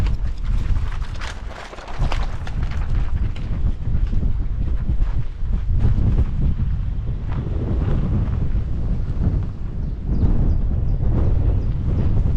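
Strong wind at a churchyard in Normandy buffets the microphone in loud, continuous rumbling gusts, with broadband roaring and no voices.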